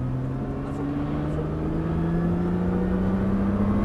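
Nissan GTR accelerating hard on a race circuit, engine note climbing steadily in pitch as it pulls through the gear, loud and close from inside the car, with no talking.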